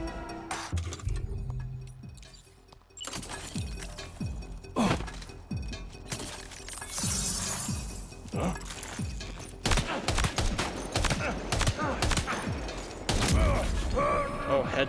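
Video game gunfire, a run of sharp shots with metallic mechanical clicks and creaks spread over about fifteen seconds, fairly loud and close, with a short quieter gap early on.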